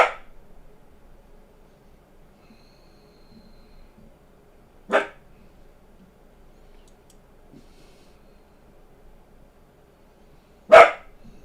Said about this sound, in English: This dog just will not stop barking.